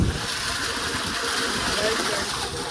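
Water pump motor gushing hot water, a continuous rushing, splashing flow at close range, steady from start to finish.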